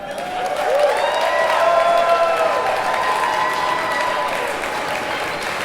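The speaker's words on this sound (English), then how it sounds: "Let's have another round of applause for Alex, Megan, and Brian." Applause and scattered cheering for newlyweds at a wedding reception: a dense, steady roar of many clapping hands that swells early and then holds fairly evenly to the end.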